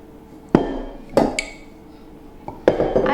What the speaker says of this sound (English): I am now going to mix the dry into the wet.